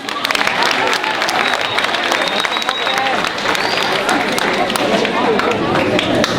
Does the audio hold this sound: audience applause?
yes